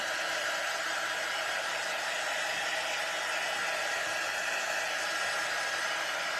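A heat tool or dryer blows a continuous, even whooshing whir while drying paint on a craft figure of a standing frog on a mushroom. The sound stays loud and unchanging throughout.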